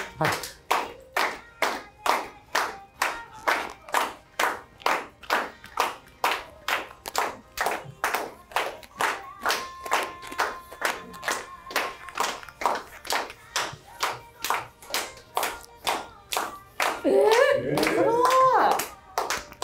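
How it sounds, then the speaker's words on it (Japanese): An audience claps along in strict rhythm at a performance, evenly spaced sharp claps repeating about twice a second for nearly twenty seconds, with a thin sustained tone partway through and a brief burst of voices near the end. "皆さん手拍子でいきます"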